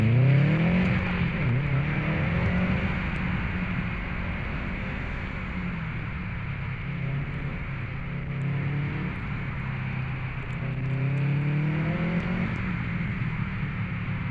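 A 2006 Subaru STi at a winter autocross, its engine droning loudly and steadily throughout with rising and falling pitch as it accelerates hard and shifts, heard from inside the car.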